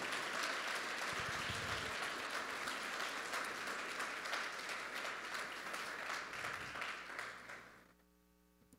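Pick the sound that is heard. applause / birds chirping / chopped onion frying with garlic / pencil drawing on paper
applause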